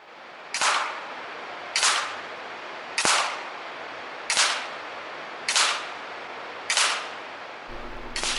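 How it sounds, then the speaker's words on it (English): An FX Impact .22 caliber air rifle fires shot after shot at a card target, seven sharp cracks at a steady rhythm roughly a second apart, close and clear against a quiet background. "This is Shooter 1 firing 10 rounds at the Ace of Hearts with the FX Impact in .22 caliber."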